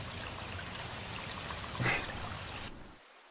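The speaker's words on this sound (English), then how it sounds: "It's just water sounds?" Trickling, flowing water in the Pokémon Sword video game plays faintly and continuously, with a brief brighter splash partway through before it cuts off.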